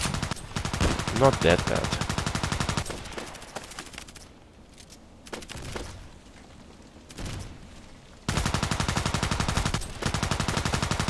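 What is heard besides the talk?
DT SRS sniper rifle shots in the video game Contract Wars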